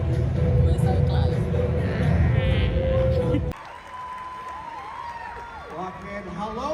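A live-show crowd roars with cheering and applause, loud and dense for a few seconds, then cuts off abruptly as a nearby voice starts talking.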